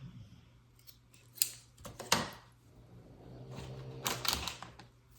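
Scissors snip waxed thread for hand book binding, a few short crisp cuts close by in a quiet room, with light rustling and handling noise between them.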